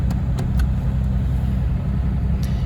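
A Renix Jeep engine idles steadily in neutral, a loud, continuous low rumble throughout with a few faint ticks above it and no talking.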